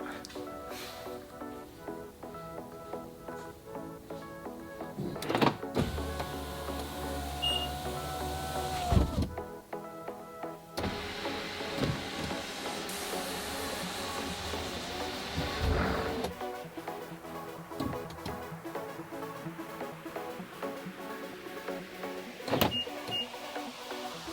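Power windows on a BMW with Comfort Access keyless entry whir shut as the car locks, a steady electric motor hum running in overlapping stretches with clunks and brief pauses between, heard at close range.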